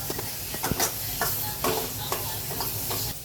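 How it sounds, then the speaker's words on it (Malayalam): Chopped tomato hits hot oil with chillies in a pan, giving a steady, close sizzle and hiss with light stirring clatter throughout. "മുളക് ഇട്ട് എണ്ണയ്ക്കകത്തൊന്ന് വഴണ്ടതിന് ശേഷം നമ്മൾ അരിഞ്ഞു വെച്ചിരിക്കുന്ന ഒരു വലിയ തക്കാളി ഇട്ട് കൊടുക്കാം"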